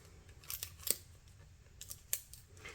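Scissors cut close up on a resin art project, a few distinct sharp snips standing out against a quiet background.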